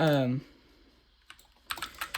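Computer keyboard typing during a Fortnite game, with a short speech burst, a pause, then quick clustered key clicks close up.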